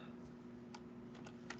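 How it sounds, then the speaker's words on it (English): Typing on a computer keyboard during an online economics class session, a few faint scattered key clicks over a steady low hum with background quiet. "Oh, hold on. I'm typing."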